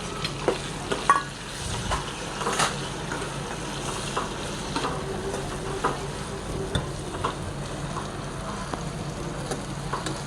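Tomatoes fry in a pan for Kathiyawadi sev tameta shaak, giving a continuous close sizzle broken by bursts of stirring scrapes and utensil taps.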